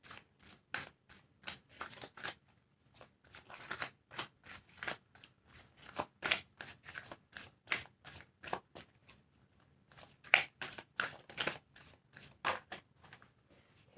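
Tarot cards are shuffled close up in quick, repeated riffling bursts with short gaps between them, crisp and fairly quiet.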